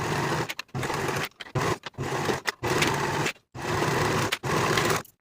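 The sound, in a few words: sewing machine stitching cardigan side seam and sleeve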